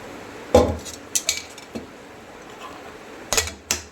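A metal kadai set down on a gas stove before oil goes in, giving a few sharp metallic clanks and clatters spread over a few seconds, with quiet gaps between them and no talking.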